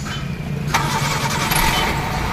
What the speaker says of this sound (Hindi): गाड़ी कंप्लीट कर दी है, अब आपको स्टार्ट करके दिखाता हूँ